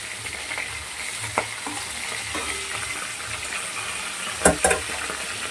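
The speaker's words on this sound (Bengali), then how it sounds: "মাছটা ভাজা হয়ে গেছে, এবার আমি তুলে দিচ্ছি" Rohu fish pieces fry in oil, giving a steady close sizzle with a few sharper spatters and clinks near the end, no speech.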